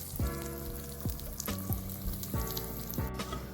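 Spices temper and sizzle in hot oil for an idli chutney, a steady close crackle broken by a few sharp spits and stirring clatters.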